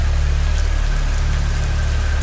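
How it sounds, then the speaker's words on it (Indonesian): Heavy rain pours steadily and loudly, a dense unbroken hiss of water with a deep rumbling low end, continuous throughout with no pauses. "di tengah guyuran hujan yang menderas"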